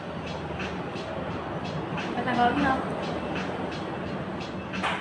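An LRT light rail train rumbles steadily with a broad, continuous roar, swelling slightly midway, while someone speaks briefly over it.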